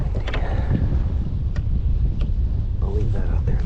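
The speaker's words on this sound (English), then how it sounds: "But it's just so windy." Wind gusting by the Fox River during a fishing outing, a steady, loud buffeting rush across the microphone that never lets up.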